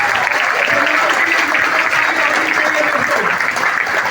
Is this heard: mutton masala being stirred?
no